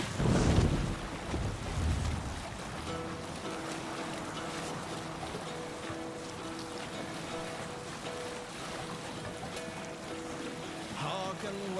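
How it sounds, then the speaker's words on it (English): A Viking longship rowed at sea in Assassin's Creed Valhalla, with rushing water, wind and hull wash forming a continuous broad wash. Faint melodic tones run underneath, with a louder splash-like burst at the start. "You must row in these waters."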